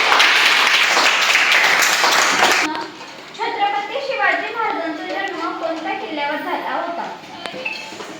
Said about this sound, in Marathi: हर्षदासाठी जोरदार टाळ्या